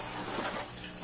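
A Quiet One water pump draining an aquarium tank while the water is stirred, giving a faint, steady rush of flowing, splashing water.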